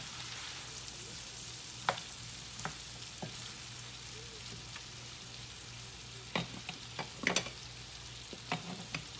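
Food fries quietly in oil in an iron skillet, a low soft sizzle broken by occasional louder crackles and pops, with a brief cluster of snaps near the end.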